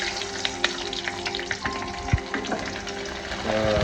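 Sun-dried vathal fries in hot oil with a close, crackling sizzle, broken by irregular pops and stirring clicks over a few seconds, with no voices.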